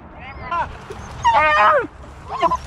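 Beagle hunting dogs whimpering and yipping close by, several high, wavering whines and short cries in separate bursts over a low rumble of background noise.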